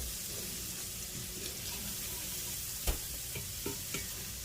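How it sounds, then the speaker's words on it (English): Onions sauté in bacon grease in a pan, giving a steady, even sizzle throughout, with a few sharp clinks and scrapes of a utensil near the end. "So we're sauteing the onions in the bacon grease."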